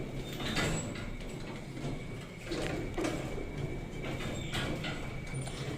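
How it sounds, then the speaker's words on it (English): Elevator doors with faulty sensors slide and bump repeatedly as they keep trying to close, producing a steady mechanical rumble with recurring knocks and a faint hum throughout. "every time I do this, the doors just try to non-stop close"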